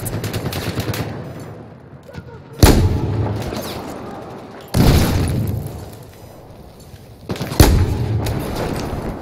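Enemy gunfire in the World War II game Final Stand: Giant of Karelia, loud, close bursts hitting at three separate moments, each followed by a decaying rumble over a busy backdrop of battle noise.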